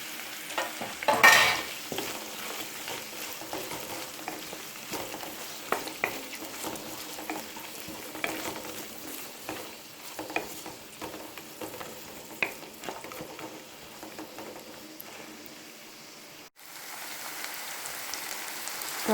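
Sliced onions fry in oil with chopped ginger and garlic for a Kerala-style jackfruit biryani, producing a continuous crackling sizzle with small stirring knocks throughout and a brief dip in sound near the end.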